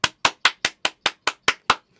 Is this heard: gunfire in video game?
no